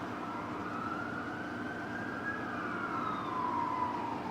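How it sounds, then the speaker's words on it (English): Ambulance sirens wailing outside, heard from indoors at moderate distance, the tone sweeping up and down and swelling slightly as the vehicles pass. "here's the sirens from the ambulance"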